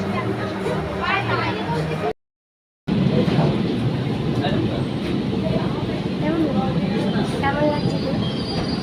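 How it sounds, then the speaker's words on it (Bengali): A Kolkata metro train at a station on the way to Dakshineswar gives off a loud, steady rumble and rail noise, with voices of people on the platform. The sound drops out briefly partway through. "স্টেশনে পৌঁছে গেছি, এখন আমরা ট্রেনের জন্য অপেক্ষা করছি।"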